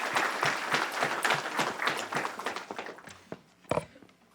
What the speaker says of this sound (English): we can have a round of applause